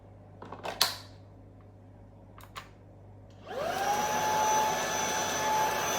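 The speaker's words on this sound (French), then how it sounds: "Aspirateur de table et aspirateur de sol." A small tabletop vacuum cleaner switches on after a few light clicks and taps, then runs with a steady whirring whine close by that holds for several seconds before a sharp knock at the end.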